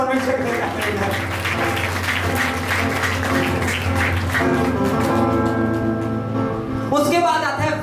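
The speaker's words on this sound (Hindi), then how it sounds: "सभी ध्यान से सुन रहे हैं और जोर से परमेश्वर के लिए तालियां बजाओ।" Congregation clapping loudly during a Hindi church sermon, a continuous wash of hands with music playing underneath and a voice speaking over it throughout.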